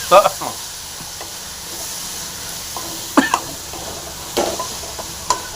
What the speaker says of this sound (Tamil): அப்படியே நல்லா ஒரு அஞ்சு நிமிஷம் நல்லா ஃப்ரை பண்ணிங்க